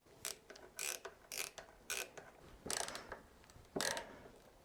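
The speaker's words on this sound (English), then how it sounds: "So I recorded tapping in and unscrewing each of these screws in a 2x4." A hand screwdriver drives and backs out screws in a 2x4, producing a series of distinct ratcheting, clicking bursts in close succession, each a short mechanical rattle separated by brief pauses.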